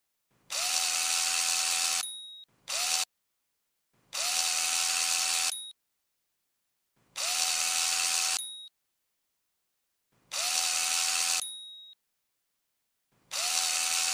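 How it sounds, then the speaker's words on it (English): A virtual impact wrench tightens wheel fasteners in a tire service training game, sounding as six short bursts of high-pitched whirring buzz, each about one to one and a half seconds long and separated by silence. "grab the impact wrench and collide with the fasteners while using the impact wrench"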